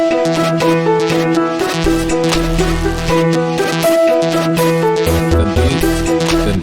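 An Afro tech track built in Serum plays loud and full, with a syncopated synth pluck in triplets over a driving beat and deep bass hits. There is no talk.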